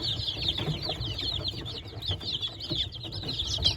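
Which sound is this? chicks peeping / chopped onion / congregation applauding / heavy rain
chicks peeping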